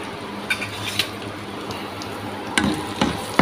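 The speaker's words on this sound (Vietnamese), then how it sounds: "mình sẽ chiên với mắm" Pork ribs fry in a pan with fish sauce, giving a steady sizzle broken by a few sharp clinks and scrapes of a utensil against the pan, with no one speaking.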